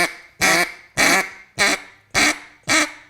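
Six evenly spaced flat quacks blown on a duck call, each a short, loud, buzzy burst with a quick cutoff, close and alone with no talking.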